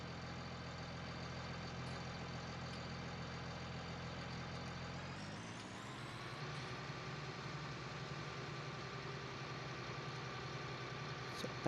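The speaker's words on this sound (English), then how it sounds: "Hop in this tractor." A tractor engine idles steadily in the Farming Simulator video game, a constant low droning hum whose pitch and tone shift partway through as the engine note changes, with no talking.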